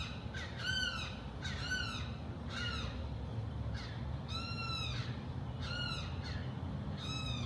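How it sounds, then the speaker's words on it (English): Repeated drawn-out moaning bird calls, about eight in steady series, ring out clearly from a fairly close bird over a quiet outdoor background with no talk. "What kind of bird is that?"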